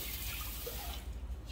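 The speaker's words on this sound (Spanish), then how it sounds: "Aquí son dos tazas de agua." Water poured from a cup into a cooking pot at home, two cups for a simple dish, giving a steady splashing, trickling flow close by for under two seconds with no talk over it.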